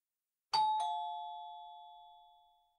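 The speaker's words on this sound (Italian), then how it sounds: "Il portiere suonò il campanello e aspettò." A single two-tone doorbell chime rings out clearly, its tones lingering and slowly fading over a couple of seconds in an otherwise quiet space.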